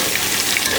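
Water splashed into crushed garlic frying in a pot for mutton yakhni pulao gives a brief, loud hissing sizzle, with no talk.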